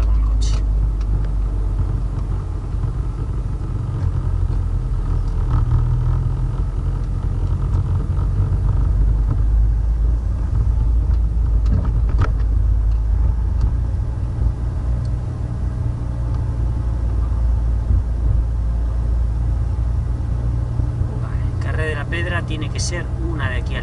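A car driving along a road, with steady low engine rumble and road noise running throughout at a constant close level, and no talking.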